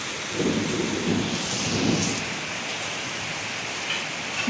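Steady heavy rain in Velachery, Chennai, hisses throughout, with low rumbling swells that could be distant thunder, no voices.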